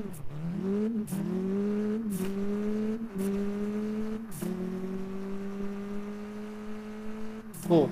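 V10 Mitsubishi Eclipse engine in the Car Parking Multiplayer video game revs through repeated upshifts, pitch climbing and dropping at each gear change over a steady loud drone, with a voice speaking faintly at times.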